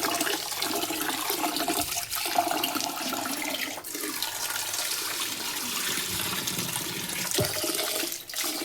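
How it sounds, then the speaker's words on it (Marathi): Running water pours steadily over dosa ingredients being rinsed in a kitchen, a continuous rushing gush with brief dips as the flow shifts, and no voices over it. "हे 2-3 पाण्याने धुवून घेते मी"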